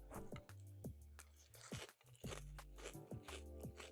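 Honey-flavoured crunchy cereal chewed close up, a series of loud crisp crunches and wet chewing bites repeating over a few seconds, with no talking.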